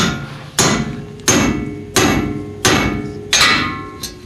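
Six heavy metallic hammer blows from a big hammer on a steel wedge during a Mercedes 300D front end rebuild, evenly spaced and ringing briefly after each strike, close and loud with no talking.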